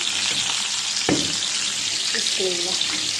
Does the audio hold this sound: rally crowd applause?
no